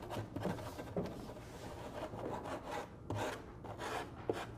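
A rasp is worked over hardened fiberglass putty on a bobcat taxidermy mount, making faint, close, scratchy rubbing strokes that come in uneven repeated passes.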